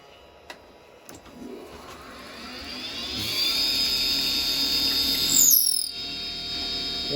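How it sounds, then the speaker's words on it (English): A 6mm drill bit on a lathe spins up into a steady high whine boring through wooden dowel stock, rising and holding, with a brief pitch sweep near the end as the bit cuts through. "And I want to drill right through."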